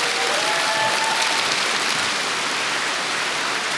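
Dense, steady applause from a large audience at the EVE Fanfest 2018 closing ceremony, loud and continuous like heavy rain with faint cheers early on.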